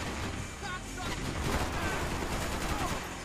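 Gunfire in the video game Max Payne 3, dense rapid bursts of shots forming a continuous crackling barrage, fairly quiet in the mix with faint talk beneath.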